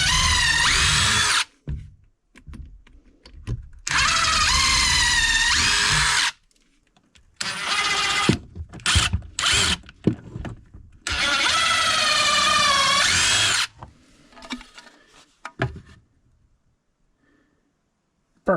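A power drill bores at an Alaska cabin in several loud, sustained bursts of a few seconds each, with short pauses and clatter between them, then falls quiet near the end.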